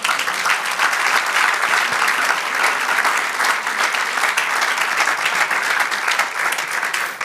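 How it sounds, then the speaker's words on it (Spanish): A church congregation gives loud, sustained applause, a dense wash of many hands clapping at once that holds steady throughout. "Denle un aplauso al Señor."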